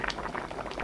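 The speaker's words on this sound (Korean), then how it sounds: "두부와 파를 넣고 5분 더 끓이면 감칠맛 나는 맛있는 김치찌개 완성" Pork kimchi stew with tofu and green onion bubbling steadily in a pot, a soft continuous simmer of popping bubbles, close and quiet with no voices.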